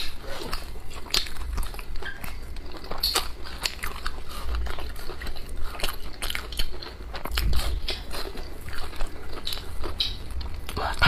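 Close-up chewing of spicy seafood with pig intestines and green vegetables, with wet crunching and biting that runs steadily through the whole stretch, no talk.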